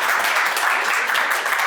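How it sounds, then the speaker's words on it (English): A short, full burst of audience clapping at a university launch event for a TB research centre, loud and even throughout with no talking. "I always get a round of applause for it too."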